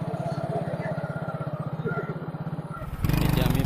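A motorbike engine idles with a steady, close chugging throb, then revs up louder near the end as the bike is brought to a stop at a bridge by a market.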